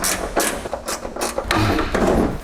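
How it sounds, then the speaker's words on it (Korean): Ratchet clicks and metallic clanks as 12mm door hinge bolts are loosened and removed from the front door of a 2022 Hyundai Ioniq 5, arriving in short bursts up close with no talking. "도어 힌치에 체결된 12mm 볼트 4개만 분리해주면 도어는 탈거가 될 거예요."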